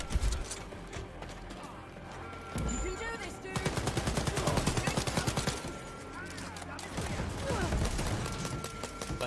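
Rapid gunfire bursts from a shooter in Wolfenstein Youngblood, loud and repeated in clusters with short gaps, mixed with game effects and occasional talk.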